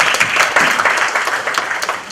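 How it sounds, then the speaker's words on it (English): An audience at an HR forum on mergers and acquisitions applauds as a Grant Thornton India panelist is introduced. The applause is dense and fairly loud, with a blur of many hands and no clear talking. "Get some applause."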